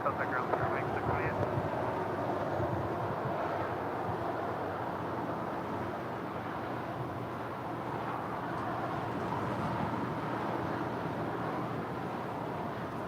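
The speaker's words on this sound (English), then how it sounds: "Asiana Airlines A350 making that left-hand turn" Asiana Airlines Airbus A350 taxiing through a left-hand turn at LAX, a steady broadband jet engine rumble and whine held at a constant level from start to finish.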